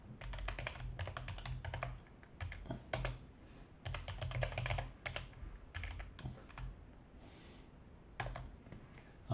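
Steady typing on a computer keyboard, with bursts of quick, close key clicks broken by short pauses, recorded alone with no talking.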